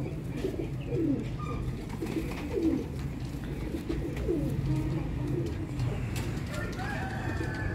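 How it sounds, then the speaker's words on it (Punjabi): Zeera Sharmeela pigeons coo on a rooftop in Sialkot, repeated soft throaty coos from several birds over a steady outdoor hum. "ਜ਼ੀਰੇ ਸ਼ਰਮੀਲੇ ਕਬੂਤਰਾਂ ਦਾ ਤੁਹਾਨੂੰ ਸ਼ੌਕ ਕਰਵਾ ਰਹੇ ਹਾਂ ਅਬਦੁੱਲਾ ਭੱਟ ਸਾਹਿਬ ਦੀ ਛੱਤ ਤੋਂ।"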